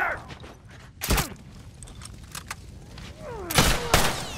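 Sharp gunshots in The Last of Us multiplayer, with two loud close cracks and a quick follow-up burst over scattered movement and mechanical clatter.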